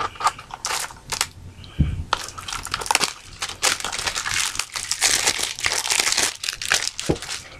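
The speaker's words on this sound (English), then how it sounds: "Opening it up with my trusty knife." A CD package in crinkly plastic wrap being cut open with a knife, with dense crackling, crumpling and tearing that comes close and loud in rapid irregular bursts.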